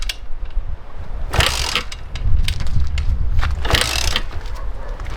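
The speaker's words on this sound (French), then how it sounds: "J'ai l'impression de démarrer mon 500 CR." Someone tries to start a brand-new 2022 motocross bike. Two loud bursts of mechanical clatter, like kick-start strokes, stand out over a low, rough rumble.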